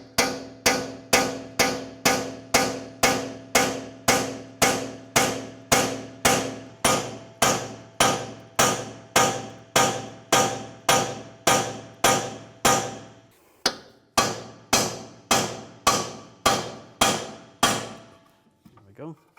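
Hammer striking a punch to drive the knuckle off the strut on a 2004-2010 BMW X3 front suspension, dozens of sharp, evenly spaced metallic blows, loud and close, with one brief pause near the end.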